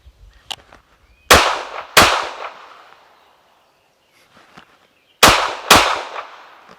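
Tisas PX9 Carry 9mm pistol fired in controlled pairs at a range: two quick pairs of sharp, loud reports with ringing decay, a pause between them, and faint handling clicks.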